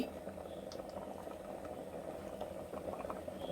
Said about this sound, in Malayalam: കറി തിളച്ചു